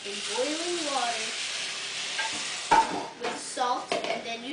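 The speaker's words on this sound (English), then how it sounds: "I put elbow noodles in boiling water" Elbow noodles stirred in a pot of boiling salted water: a steady hiss of bubbling under a few sharp clinks and scrapes of a utensil against the pot, with a voice heard briefly near the start.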